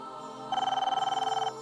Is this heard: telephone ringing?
yes